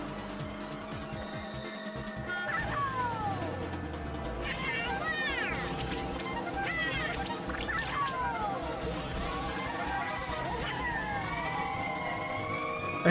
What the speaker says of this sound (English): I hear sirens, so I have to yield for an ambulance?